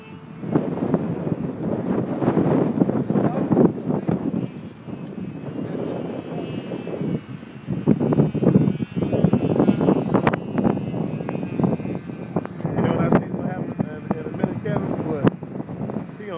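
An airplane engine drones overhead, rising and falling in loudness with gusts of wind noise buffeting the microphone.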